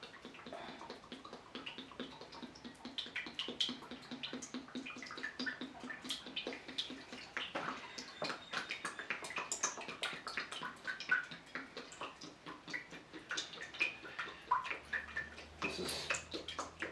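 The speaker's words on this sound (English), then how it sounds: "I'm going to put some vegetable oil in this pan" Vegetable oil pours from a 2-litre container into a pan for homemade french fries, a continuous soft glugging and trickling with faint drips, close and alone.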